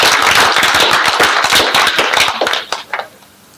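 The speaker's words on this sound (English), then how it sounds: "if we can applause for the affirmative team, for those that think they won the debate," Dense burst of clapping from a debate audience for the affirmative team, loud and sustained, then quickly thinning to a few scattered claps before fading out.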